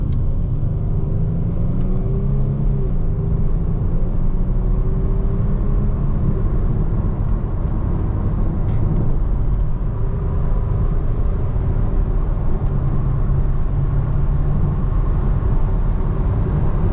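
A 2012 Mercedes C300 CDI 4Matic diesel with 231 horsepower accelerating at full throttle, heard from inside as a loud, steady low engine drone and road rumble that holds for the whole stretch, without speech.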